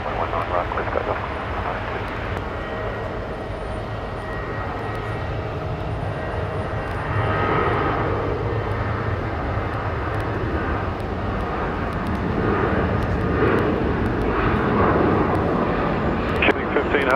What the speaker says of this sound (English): Runway 19 right, clear for takeoff.